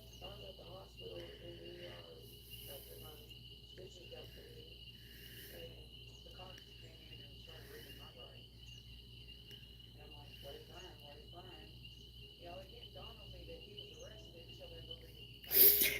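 Tree frogs call in a steady, high-pitched chorus of repeated trills heard faintly in the background, with a voice talking over them and a short loud noise at the end.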